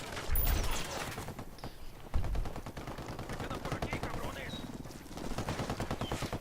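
Automatic gunfire in the Ghost Recon Wildlands video game, with rapid bursts rattling over a steady background, a few louder shots standing out and someone talking over the shooting.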